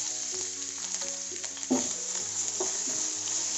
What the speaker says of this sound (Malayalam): നന്നായി ഒന്ന് പച്ചമണം മാറുന്ന വരെ വഴറ്റി കൊടുക്കുക